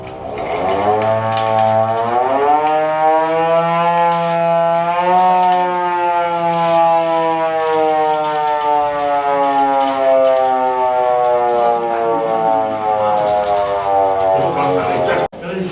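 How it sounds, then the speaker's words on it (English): A loud hand-cranked civil defense air raid siren at an old Chinese commune wails continuously, its pitch rising and slowly falling in a long sustained drone, close and dominating. "That's the anti-air raid siren."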